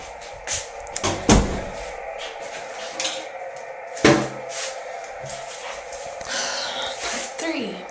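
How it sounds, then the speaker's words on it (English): An indoor door is shut with a couple of sharp thuds and clunks, followed by a little light rattling, close by and brief. "Let me just shut this door."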